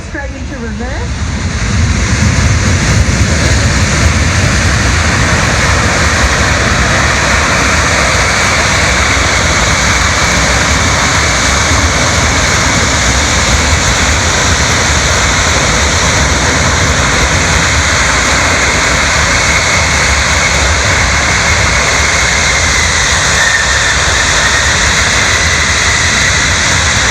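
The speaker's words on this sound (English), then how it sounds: "Those engines go straight into reverse." A loud, sustained jet engine roar of a landing aircraft going into reverse thrust at an airshow, rising quickly then holding as a steady broadband rush for many seconds.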